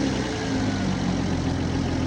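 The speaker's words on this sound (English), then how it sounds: "There's definitely an exhaust leak" A car engine with an exhaust leak from a stolen catalytic converter idles close by, a continuous low rumbling drone with a raspy, sputtering edge and no talking.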